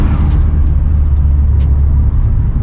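A Nissan 350Z manual sports car engine rumbles low and steady from inside the cabin on the road, a continuous deep drone with road noise and faint higher rattles.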